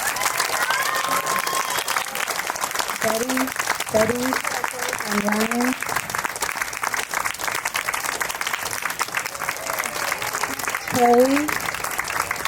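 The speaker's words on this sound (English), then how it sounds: "Let's give our cast and our crew a big round of applause." A theater audience applauds a student musical's cast and crew with dense, continuous clapping throughout. A speaker's voice sounds over the applause, reading out names.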